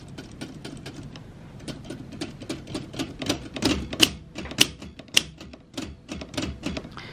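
A 1950s Deluxe Olympia manual typewriter clatters as it types, with sharp, rapid key strikes and mechanism clacks that come close and loud in an uneven, steady run.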